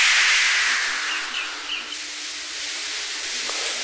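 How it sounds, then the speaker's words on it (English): Steam hisses steadily from a tank engine in a children's Thomas story, a loud broad rush that starts strong and eases slightly before holding on to the end, with no talking. "Henry only blew steam at him"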